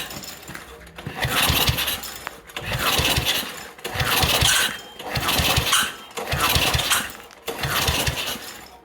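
Repeated pull-starting of an 8 hp engine swapped into a John Deere 110 lawn tractor: six loud rasping cranking bursts roughly a second and a half apart, each fading back to quiet between pulls.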